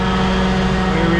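An RV rooftop air conditioner runs steadily up close on the roof, a constant hum with a low tonal drone and broad fan rush, with no break or change over its brief span.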